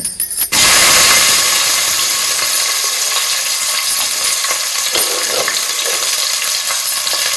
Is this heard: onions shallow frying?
yes